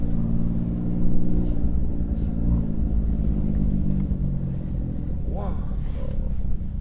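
An Alfa Romeo Giulia Quadrifoglio with a Ferrari-derived engine rumbles steadily from inside the cabin while driving, its low drone swelling slightly as it revs, with people talking over it.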